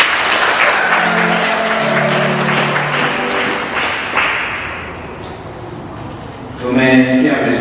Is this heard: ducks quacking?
no